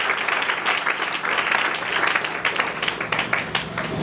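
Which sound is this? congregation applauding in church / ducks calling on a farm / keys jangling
congregation applauding in church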